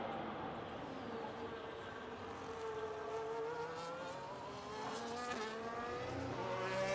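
In F1 25 at Catalunya, an F1 car's high-revving engine climbs and shifts through gears as it is thrown through corners, a steady, moderately faint whine with rising pitch sweeps.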